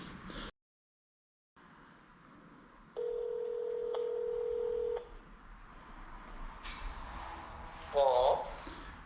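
Telephone call tones on a phone: after a brief dropout, a steady held tone plays for about two seconds, followed by faint line noise and a voice speaking near the end.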